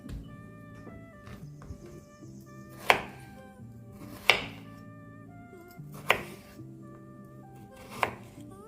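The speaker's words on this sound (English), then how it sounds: "These are frozen strawberries, so you see how easily they slice." A knife cuts through frozen strawberries on a board, making four crisp, separate chopping thuds spaced a second or two apart, close up, with soft music playing underneath.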